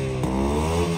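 An old SD 350 motorcycle engine runs close by with a dense, steady harmonic drone and a brief bump in revs near the start, heard alone for about a second.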